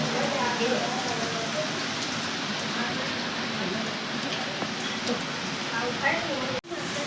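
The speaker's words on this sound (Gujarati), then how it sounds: "વરસાદ ચાલુ થઈ ગયો હે જો" Heavy rain pours down steadily outdoors, a continuous close hiss of falling water that holds for about seven seconds, with faint voices in the background.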